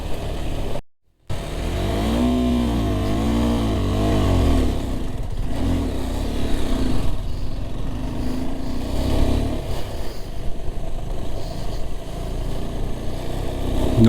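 A motorcycle engine revs hard during a ride in Ladakh, a steady loud mid-pitched drone rising and falling in pitch, close by, with a brief dropout near the start and continuous clatter underneath.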